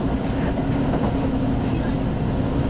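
An Amtrak train rolls steadily past on the rails in North Philadelphia, a loud, continuous rumble with rattling wheel noise and no break throughout.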